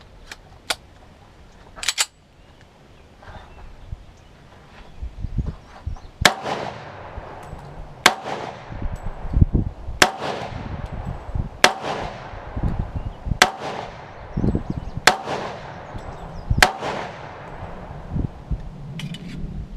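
Pistol shots from a Ballester Molina fired at 10 yards ring out as about ten sharp, loud reports at a steady, unhurried pace, with faint rustling between them and no talking.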